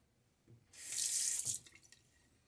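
Running tap water gushes briefly into a sink during a shave, a close hiss lasting about a second with soft splashing and faint handling knocks before and after.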